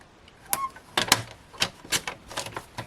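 Card stock being cut to size on a paper trimmer for a festive Christmas card, a run of sharp clicking and scraping taps in an irregular rhythm, close and fairly loud with no voices.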